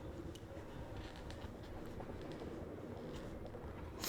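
A train rolls through mountains in a Danganronpa fangame: a faint, continuous rumble of wheels and carriage with soft, irregular clicks over it, with no voices.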